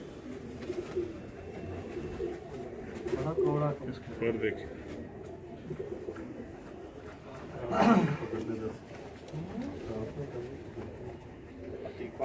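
Pigeons in a bird gallery coo in low, repeated murmurs beneath steady nearby conversation, with a louder burst of cooing near the end.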